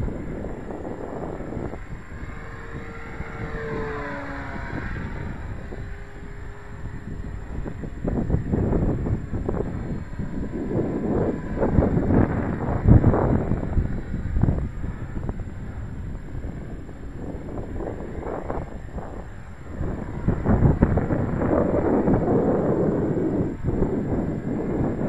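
Cessna high-wing light airplane engine at full throttle, a steady droning roar with wind buffeting the microphone, rising and swelling in loudness over the length of the recording.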